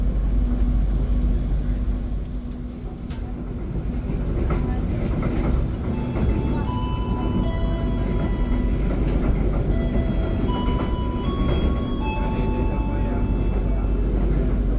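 The KA Sawunggalih premium economy train runs on the Jakarta–Purwokerto line, a loud continuous rolling rumble heard from inside the carriage with faint clatters and whines over the steady drone.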